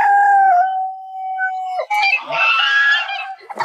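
A rooster crows near its hens in a hillside chicken area. The long, loud crow is followed by raspy clucking and squawks close by.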